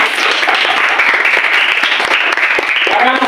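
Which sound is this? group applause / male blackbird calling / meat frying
group applause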